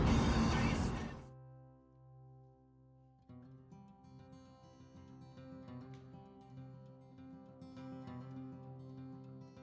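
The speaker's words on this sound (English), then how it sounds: "That noise you're hearing is my massager." An electric massager runs with a low, steady electrical hum, faint and continuous, following a brief louder burst of broadband noise at the start.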